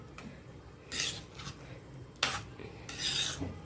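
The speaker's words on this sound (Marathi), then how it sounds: "लिंबू टाकून सर्व मिक्स करून घ्यायचं आहे" Spinach khichdi with lemon juice is stirred in a pot. A spoon makes several separate scraping, rasping strokes against the metal, close by and fairly quiet, with no speech.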